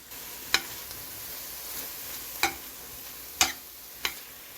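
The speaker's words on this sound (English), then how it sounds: "Okay, now you want to add 2 tablespoons of tomato paste and stir well." Tomato paste is stirred into vegetables sizzling in a pot for an oxtail dish: a soft steady sizzle punctuated by four or five sharp spoon taps and scrapes against the pot, with no talking.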